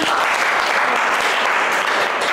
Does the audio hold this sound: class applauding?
yes